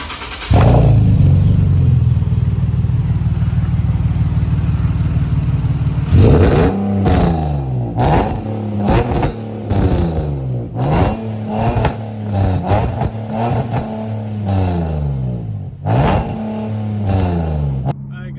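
A Nissan 370Z Nismo engine with resonator test pipes idles with a steady drone, then revs hard in repeated sharp bursts, its raspy exhaust note climbing and falling loudly up close.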